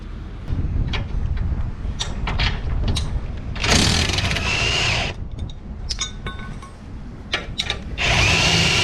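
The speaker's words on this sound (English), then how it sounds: "undo this lower bolt. So it's a 18mm socket and a 21mm ring spanner on that side." Ratcheting and turning on a lower suspension bolt with an 18mm socket and ring spanner during a rear lift spacer install on a Ford Territory, heard as scraping, rasping bursts over steady workshop noise, close and loud.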